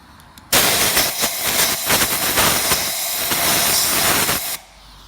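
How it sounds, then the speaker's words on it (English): Compressed air blasts from an air nozzle into an open intake port on a Porsche 981 Boxster engine with its intake manifold removed, a loud steady hiss lasting about four seconds that starts and stops abruptly, close up. "I'm just going to get some compressed air. I'm going to cover up that intake that I'm doing, blow it"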